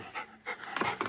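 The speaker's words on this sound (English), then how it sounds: "The little dog Bear barks and then comes charging back down the stairs" Small dog named Bear panting and giving soft barky huffs in quick bursts, fairly close and alone with no talk.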